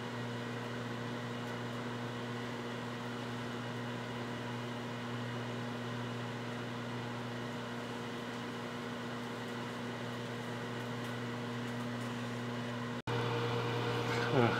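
A microwave oven runs steadily with potato chips turning on the carousel, giving a constant hum with a faint whir. Near the end the hum briefly cuts out and then resumes slightly louder.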